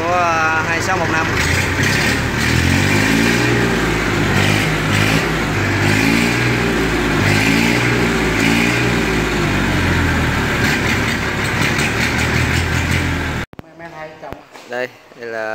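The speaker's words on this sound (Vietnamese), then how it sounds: "test âm thanh của 2615." A Massey Ferguson MF 2615 tractor engine runs loud and close, its steady diesel rumble rising and falling through repeated revs before cutting off abruptly, followed by a few moments of quieter talk.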